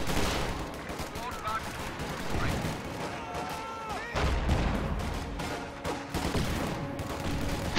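Dense, continuous gunfire and thudding grenade explosions from a strategy video game battle with Assault Grenadiers, loud rattling bursts overlapping throughout, with a voice speaking underneath.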